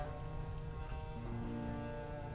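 Rain patters softly and evenly in the survival game Beyond the Map, faint and continuous with a thin layer of game music underneath and no talking.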